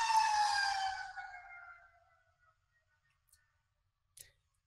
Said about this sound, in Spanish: Vamos a dejar que pase la ambulancia.